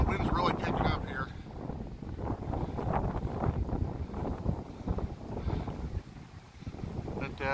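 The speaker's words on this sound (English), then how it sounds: "Yeah, the wind's really picking up here." Strong wind gusts buffet the microphone on a Route 66 road trip through Illinois and Missouri, a continuous low rumbling roar with a voice faintly audible beneath it.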